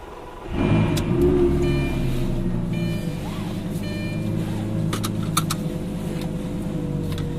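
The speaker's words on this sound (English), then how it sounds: "So it's got a turn key. Great startup noise on this." A turn-key sports car engine cranks and fires up with a loud rumble, then settles into a throaty, steady idle close by.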